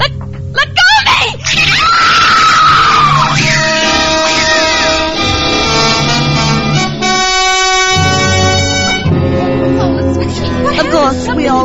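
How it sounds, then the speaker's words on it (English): A woman screams loudly in a 1946 radio mystery drama, long sustained shrieks with tense orchestral music swelling behind and voices in between. "we all heard the screams coming from Diane's room"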